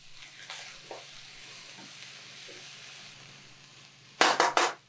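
A quiet sizzle of vegan rice noodles with red peppers being stirred in a pan with sesame oil, ending in a few louder scraping stirs.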